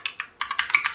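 Quick bursts of keystrokes on a computer keyboard, a few isolated taps followed by a denser run of clicks, close and clear with no talking.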